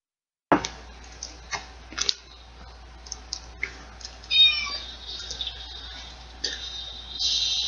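A cat in the video game Lone Survivor makes small meows amid sharp game clicks and soft ambient tones after an abrupt start, with a brighter chirping layer appearing near the middle and end.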